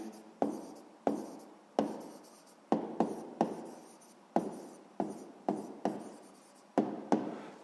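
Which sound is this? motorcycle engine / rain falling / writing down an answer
writing down an answer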